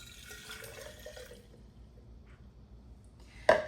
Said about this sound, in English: we're gonna go ahead and add some water, and I'm gonna add about 8 ounces of water